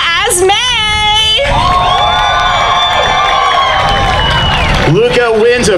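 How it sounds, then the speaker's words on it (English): Audience at a cosplay contest at the Orlando Japan Festival cheering and whooping for the runner-up, a loud, close crowd roar with high shouts that rises and fades over several seconds. "Give her a round of applause"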